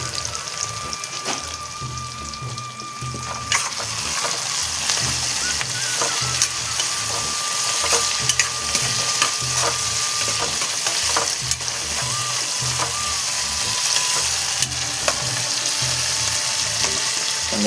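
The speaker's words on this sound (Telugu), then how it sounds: "ఇవన్నీ వేసుకున్నాక ఫ్రై అయితే వేసేసుకున్నాం." Peanuts frying in a pan for paneer curry, giving a loud, steady sizzle with crackles and pops that run throughout, close up and with no talking.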